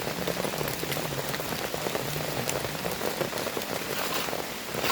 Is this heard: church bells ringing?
no